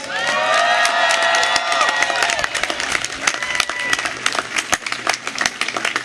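A crowd at a law school commencement ceremony applauds the faculty, loud dense clapping mixed with cheers and a few whistles at the start, continuing steadily as the clapping grows more scattered.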